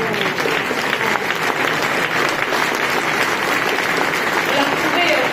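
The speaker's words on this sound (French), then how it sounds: "on peut l'applaudir bien sûr" Steady audience applause fills a ministerial evening for French shipowners, dense and continuous throughout, with voices faintly mixed into the crowd noise.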